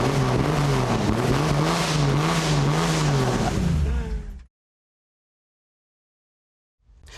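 A big block Camaro engine revs loud and close, a throaty roar with sweeping pitch rises for about four seconds, then cuts off abruptly into silence before a faint return at the end.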